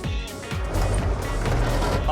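A brush fire truck engine starts and runs after being switched on, a low steady rumble close by throughout the short stretch.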